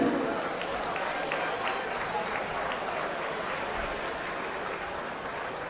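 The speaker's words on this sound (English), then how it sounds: "let's have a nice round of applause for both fighters' wins." Crowd applause at a heavyweight boxing event at the Hard Rock Hotel in Daytona Beach, steady clapping and cheering throughout with a voice talking faintly over the noise.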